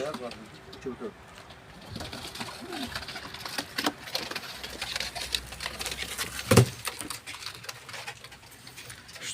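Crested pigeons in a loft, soft cooing and fluttering movement under ongoing Turkish conversation, with a sharper flap or thud near the end amid room noise.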